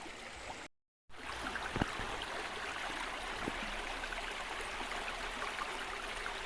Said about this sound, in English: Nice clean river.